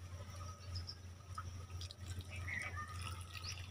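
Water drains and trickles from the bottom of a potted Euphorbia milii after watering, a faint, steady wet dribble with scattered small drips over a low background hum.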